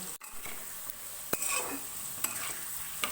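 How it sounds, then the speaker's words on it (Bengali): Potato pieces lightly fried in a pan with steady soft sizzling, punctuated by a few sharp scrapes and taps of a spoon stirring against the metal. "আলুটা একটু ভাজা ভাজা করবো, খুব বেশি ভাজা ভাজা করবো না, হালকা একটু ভাজা ভাজা করে নেব।"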